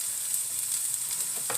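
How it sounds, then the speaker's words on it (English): Meat, hummus and lettuce sautéing in a pan, giving a steady close sizzle with a faint scrape near the end and no talking. "So I'm going to let this saute"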